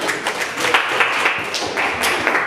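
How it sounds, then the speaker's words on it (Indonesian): A classroom audience claps for two student groups after their presentations, a steady patter of many hands, fairly loud and continuous. "Kita kasih aplaus untuk kelompok 2 dan kelompok 1."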